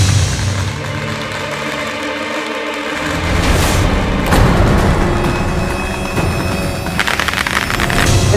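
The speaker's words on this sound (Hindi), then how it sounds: "सब लोग बम पटाखे जला रहे थे" Diwali firecrackers burst at an outdoor gathering, a dense, loud crackling roar with repeated booms and sharp pops layered over continuous noise, no talk heard.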